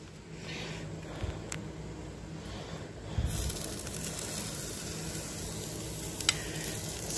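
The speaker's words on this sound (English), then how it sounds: "Sizzle, sizzle." Steady sizzling of food on a hot barbecue grill, a continuous crackling hiss with a few brief pops, moderately close and without talk.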